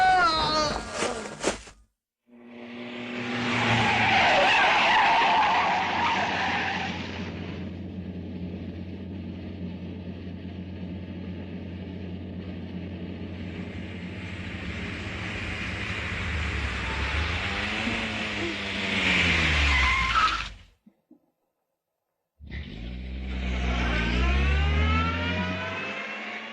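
A car driving at night in a 1985 Indonesian horror film, a long sustained engine roar with a rising squeal like skidding tires, fading, a brief silence, then the vehicle sound returns loudly.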